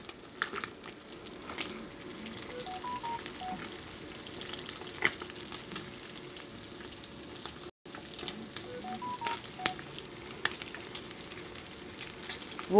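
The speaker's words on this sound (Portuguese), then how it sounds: "Vou deixar fritar bem a calabresinha." Calabresa sausage fries in a pan with a steady crackling sizzle throughout, close and moderately loud, broken by one brief cut of silence partway through; no one speaks.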